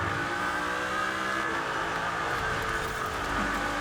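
Zenvo TSR-S hypercar engine racing in Forza Horizon 4, a continuous high revving drone held steady through a corner, loud and close with a slight pitch shift near the end.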